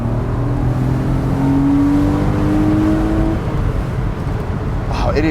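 Porsche 986 Boxster S engine pulling hard on a twisty road, a steady rising drone climbing in pitch as it accelerates, loud and close throughout, with a shift in tone near the end.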